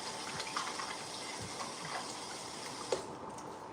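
Tap water runs while hands are washed at a sink, a soft steady stream with small splashes and one brief clatter, fairly quiet and close.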